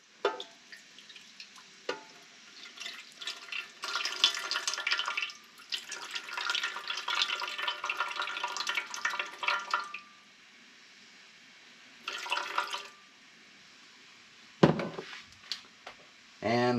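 Water for sourdough bun dough is poured into a bowl in several bursts of splashing and trickling, with pauses and handling clatter between pours and someone speaking intermittently.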